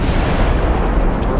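Warship guns firing in the naval game Ultimate Admiral: Dreadnoughts, heard as a loud, sustained low rumbling boom with no distinct separate shots.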